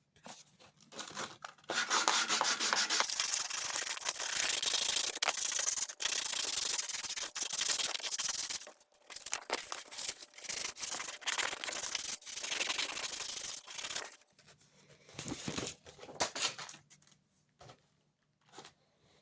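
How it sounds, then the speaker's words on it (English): Hand sanding of a zebrawood knife handle up to 400 grit: steady, close abrasive rubbing strokes that run loud for several seconds, then break into shorter, quieter scrubbing bursts with pauses. "So I'm just going to take it and hand sand it up to 400 grit."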